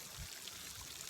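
Water streams steadily from holes drilled along the pipes of a homemade backyard water park, making a continuous, fairly quiet pouring and trickling wash with no voices.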